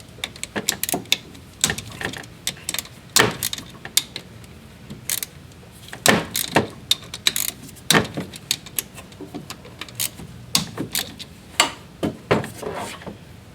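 A ratchet with a 10 mm socket loosens the clutch pressure plate bolts on a Yamaha YXZ, heard as close, uneven bursts of sharp ratcheting clicks and creaks with short gaps throughout.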